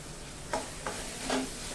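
Onion sautés in oil in a pan for dal fry, a soft continuous sizzle with three quick stirring scrapes breaking through at moderate, close range.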